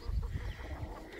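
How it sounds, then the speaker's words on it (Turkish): Resting hens in a farmyard coop, with chicks nearby, give soft, low clucks that stay faint and close, with no talking. "Tavuklar şu an dinlenmeye aldı kendini."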